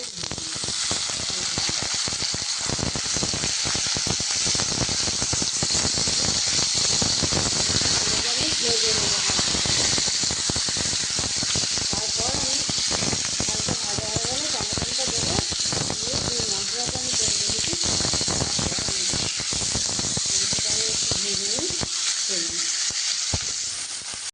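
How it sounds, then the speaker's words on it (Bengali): Meat sizzles steadily in a hot pan after garlic was fried, a dense continuous hiss with frequent crackles and pops, loud and close throughout, with faint stirring. "এই দেখুন মাংসগুলো আমার হালকা ভাজা হয়ে গেছে"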